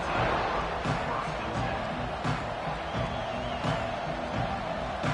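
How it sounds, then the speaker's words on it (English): Large college football stadium crowd during an FCS team's game against Michigan State, a dense continuous roar of cheering and shouting, loud and distant-sounding throughout, with a few thumps poking out of the wash. "This crowd ready to make its presence known."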